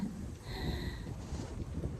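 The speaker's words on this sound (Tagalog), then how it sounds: "At napakalakas ng hangin" Steady wind rushes and buffets against the microphone, a low rumbling roar with no voices, moderately loud throughout.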